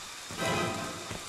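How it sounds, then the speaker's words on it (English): Rain in the video game Friday the 13th, a soft continuous patter with a brief swell in intensity, fairly faint, and no voices. "God, it's raining a lot."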